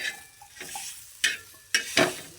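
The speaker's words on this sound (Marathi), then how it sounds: "हां चला आता मिरची तळले" Green chillies frying in a pan for a home-cooked meal, a soft background hiss broken by a few sharp scraping bursts of stirring, close and fairly quiet.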